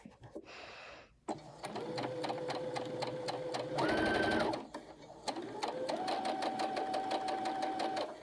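Close, steady sewing machine stitching along a seam on a colorblock two-piece garment, running in sustained bursts with a brief pause and a shift in motor pitch between runs.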